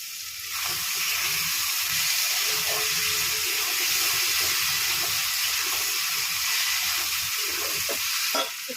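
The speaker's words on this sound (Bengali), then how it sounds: "শিল ধোয়া জলটা দিয়ে দিলাম" Water rinsed from a grinding stone is poured onto frying ground garlic and chilli paste in a pan, bursting into a loud, steady hiss and sizzle that continues close by and then fades at the end.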